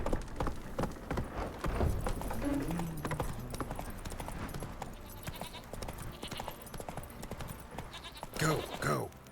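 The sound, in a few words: Roach the horse galloping, from video game The Witcher 3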